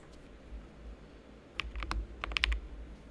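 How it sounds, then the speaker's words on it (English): Typing on a new computer keyboard during a live coding session, with a few scattered key clicks early on, then two quick bursts of clustered keystrokes, close and clear over a low hum. "I really love the typing on that new keyboard."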